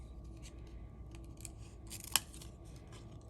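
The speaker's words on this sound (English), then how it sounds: "get some scissors or paper snips, and we're gonna have to fussy cut" Scissors or paper snips fussy cutting around a stamped paper rabbit, quiet soft snips and paper rustle with one sharp, crisp cut standing out near the middle.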